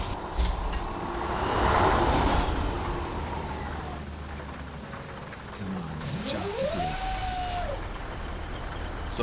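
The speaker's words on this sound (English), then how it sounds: "It's a modified Zeemods Caterpillar V8. The sound is from the 3408." A modified Zeemods Caterpillar 3408 V8 truck engine in American Truck Simulator rumbles steadily at moderate level, with a rising and falling whine near the end.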